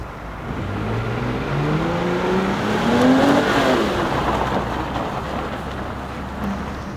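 Chrysler 200 doing a braking test on winter tires outdoors, a steady vehicle rumble with a rising then falling engine and tire tone, no talking.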